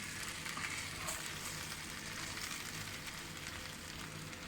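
Vegetables frying in oil for a meat stew, a continuous loud crackling sizzle with faint stirring underneath, steady and close throughout with no talking.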